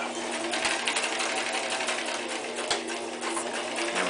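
A domestic sewing machine runs steadily, stitching a quarter-inch seam allowance around the edge of a self-binding receiving blanket, its continuous mechanical whir close and even, with faint knocks near the start and middle.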